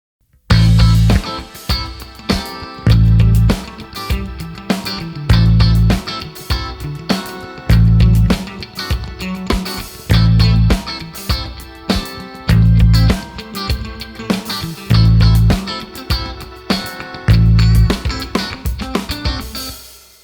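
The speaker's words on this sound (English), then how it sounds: "what I'm going to do is play the root note on beat 1 of each measure." A bass guitar plucks a sustained low root note on the first beat of each bar over a full backing track with drums, the deep notes recurring steadily and prominently throughout.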